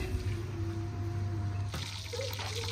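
Irrigation water running steadily through a channel toward kinnow and lemon trees, a continuous close trickling flow with a low rumble beneath, no voices.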